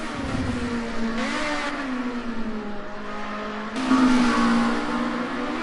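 A Ford Sierra Cosworth Group A touring car at Bathurst holds a loud, steady engine note with rising revs, then swells louder and nearer near the end as it pulls hard.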